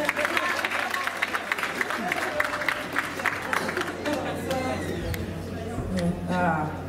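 An association gathering's crowd claps for a woman called up to the front. Dense applause fills the first few seconds, then fades into murmuring voices and a person speaking.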